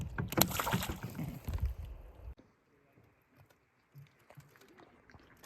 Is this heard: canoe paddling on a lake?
yes